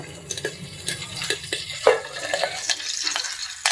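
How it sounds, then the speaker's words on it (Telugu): Curry leaves spluttering in hot oil in a pan, a dense close sizzle broken by sharp pops and crackles at irregular intervals, with a couple of light utensil clinks. "అలాగే కరివేపాకు, చిట్టపట్టలాడుతుంది కాబట్టి మూత పెట్టేసుకోవాలి"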